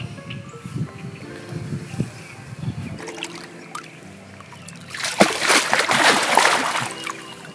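A large carp released back into a lake, with quiet trickling and sloshing water at first, then a burst of loud splashing as the fish thrashes away, with faint voices in the background.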